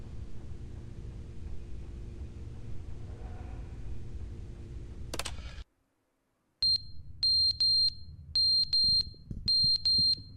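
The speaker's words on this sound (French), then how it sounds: "pas agréable du tout ce bip là" In The Stanley Parable, a steady low rumble cuts off, and after a moment of silence a high electronic alarm starts beeping in short repeated pairs.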